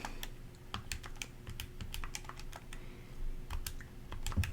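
Quick, light clicks as a calculation is keyed into a calculator, irregular taps in short runs with brief pauses, close and fairly quiet.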